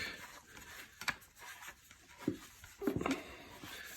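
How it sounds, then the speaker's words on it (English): Grease rubbed by hand onto the shank of a rotary hammer drill bit for a Harbor Freight Bauer 1641E-B, giving faint, close, irregular scratchy rubs and a few short swipes in quiet surroundings. "put a little grease on the tip of this shank"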